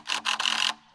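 A ratchet clicks in three quick bursts while tightening bolts on straps with U2 fasteners during a log cabin build, close and crisp, then stops.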